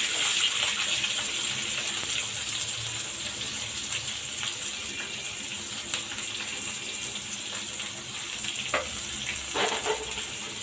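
Onions and curry leaves sauté in hot oil for a homemade chicken kuzhambu, giving a steady, close, dense sizzle for about ten seconds with occasional stirring clicks and no talk.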